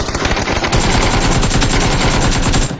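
Sustained loud automatic gunfire in the video game PUBG, a rapid unbroken burst of close shots running almost three seconds before cutting off abruptly.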